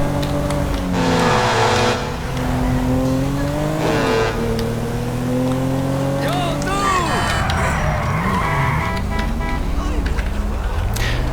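A Pinnacle car from GTA V running the IVPack mod, with a weak engine, low grip and stiff suspension, revs and shifts steadily, its engine tone rising and falling over the whole stretch as someone talks over it.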